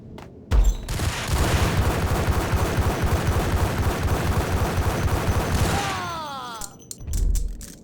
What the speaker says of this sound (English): Aha! Machine gun.